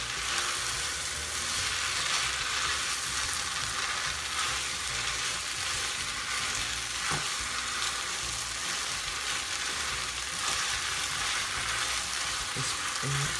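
Chicken lo mein noodles frying in a pan as a cornstarch sauce thickens around them, a constant bright sizzle with occasional light scrapes of stirring, heard alone throughout.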